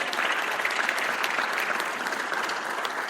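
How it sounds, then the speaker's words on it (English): A room full of people at a first Act for America meeting in San Antonio gives steady, dense applause for first-time attendees, loud and sustained throughout with no pauses. "Let's give them a big round of applause"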